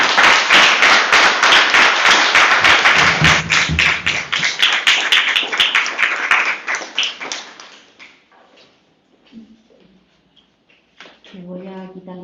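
An audience claps loudly for the guest of honour at a university humanities faculty anniversary event, a dense burst of applause that thins into scattered claps and fades after about seven seconds, followed by a short spoken phrase.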